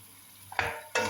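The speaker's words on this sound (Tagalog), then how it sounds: "Gigisa ko lang siya saglit. Kumaga, kunting prito lang siya." Two quick bursts of sizzling and scraping as food is stirred in a hot pan, close and short.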